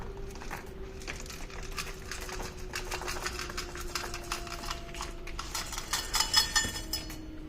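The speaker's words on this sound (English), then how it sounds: "the next step is sprinkle the chocolate chips over the caramel layer" Chocolate chips sprinkled by hand over a hot caramel layer fresh from the oven, making a light, continuous pattering of small ticks and clicks, close and fairly quiet, with a faint steady hum underneath and a slightly busier patch near the end.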